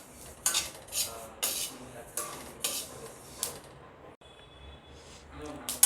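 Sesame seeds roasting in a pan over a low gas flame are stirred with a metal utensil, giving repeated scraping, clinking strokes at a regular pace with a quiet sizzling background.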